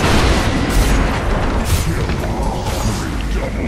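A tower collapses in the Dota 2 video game with a loud, dense, sustained crash of booming, crumbling debris and rumble lasting several seconds.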